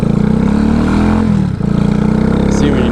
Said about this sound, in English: when you just go off idle just a little bit, it does a little whoop